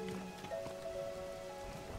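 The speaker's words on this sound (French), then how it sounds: "Enfin un peu de pluie." Steady rain falling in the game Zelda: Tears of the Kingdom, a continuous soft patter with faint tonal game music running beneath it, no voices.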